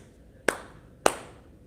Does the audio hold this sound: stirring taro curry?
no